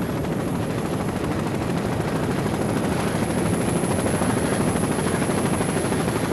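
Offshore racing powerboat PTM Express roaring past a smaller boat during a 1988 offshore powerboat championship race, a loud, continuous, dense engine drone with no talk over it.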